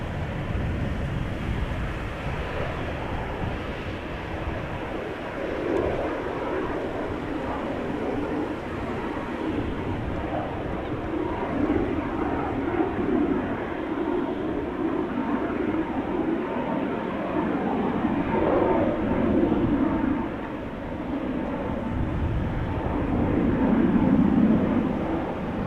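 Business jet taking off from runway 22 at Amsterdam Schiphol Airport, a broad, steady engine roar heard from a distance that slowly swells and shifts over about half a minute.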